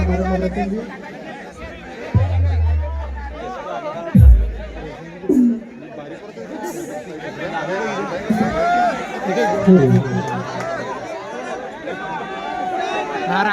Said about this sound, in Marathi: संपूर्ण जणू समुदाय उसळलेला आहे प्रचंड गर्दी आहे